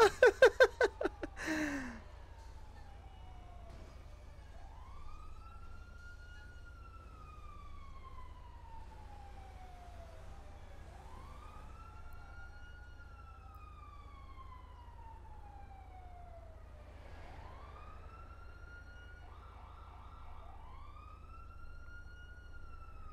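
Police siren in a GTA roleplay game, a wailing tone rising and falling in long sweeps, faint and distant over a low steady hum, with a brief sharp burst at the start.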